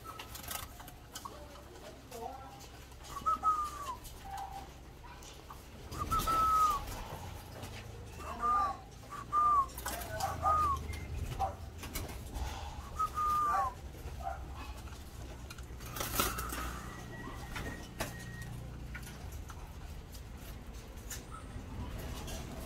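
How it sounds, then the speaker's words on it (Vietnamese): A young male turtle dove coos repeatedly in short, soft phrases spaced across a long stretch, heard over steady outdoor background noise with occasional rustling and clatter. "con chim đực hôm qua vừa tách gù được"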